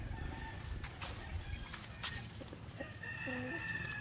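Asil and white Kelso hens cluck softly around a poultry yard, with a busy background of other fowl calls and a possible distant rooster crow, while someone talks over them.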